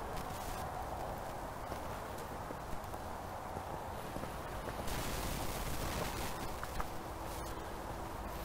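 A horse's hooves strike the ground in steady, even strides during a riding coaching session, rhythmic thuds set against a constant, noisy outdoor background.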